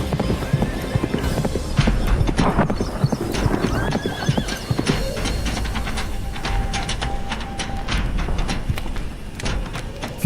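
A horse rides at pace in an animated tale of a king, hooves clip-clopping in a quick steady rhythm close by, with a whinny near the start and a faint tone underneath.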